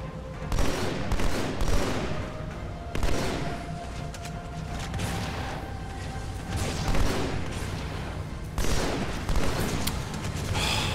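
Battle rifle fire in the video game Halo 2 comes as repeated sharp bursts of shots with heavy booms and chaotic firefight noise, loud and close, separated by short lulls over about eleven seconds.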